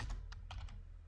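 Clicks from a computer keyboard as a database command is typed: a handful of quick, close keystrokes in an uneven rhythm, fairly quiet against a low background hum.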